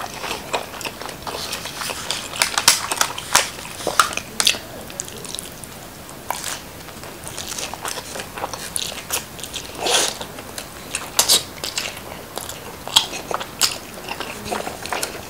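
Close, crisp crunching and chewing of Chicago-style pizza with a crispy crust, irregular bites and sharp crackles repeating throughout, with no talking.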